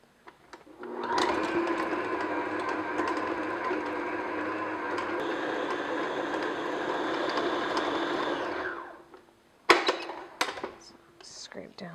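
An electric mixer beats room-temperature unsalted butter in a bowl, a steady motor whir running for about eight seconds before stopping, followed by a few brief clicks and knocks.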